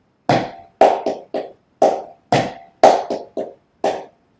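Sharp hand claps in a syncopated flamenco tangos pattern, nine crisp claps in groups with uneven spacing, close and unaccompanied.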